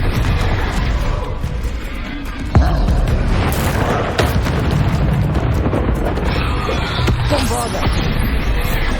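Confringo spell blasts in the Hogwarts Legacy video game, a dense run of booming bursts with a sharp hit near the start and more impacts scattered through a loud, continuous layer of combat noise.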